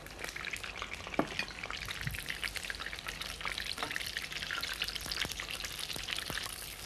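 Cumin, fennel and nigella seeds fry in hot oil, with mushrooms frying alongside: a close, steady crackling sizzle broken by sharp little pops throughout, with no voices.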